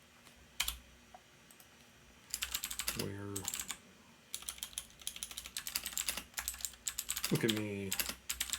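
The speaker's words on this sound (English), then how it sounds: "typing stuff in those description and help fields" Computer keyboard typing in bursts of quick clicks while entering text into description and help fields, close and moderately loud, with a voice briefly speaking in between.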